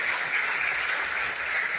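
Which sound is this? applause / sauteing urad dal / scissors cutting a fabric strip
applause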